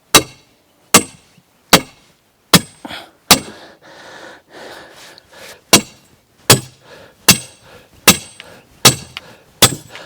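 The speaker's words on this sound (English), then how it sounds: "Hope you're getting a good hit with that sledgehammer in your ears there" A sledgehammer pounds the formwork of a rammed earth wall, about a dozen loud, sharp, close impacts at an uneven pace, with faint scraping and shuffling between blows.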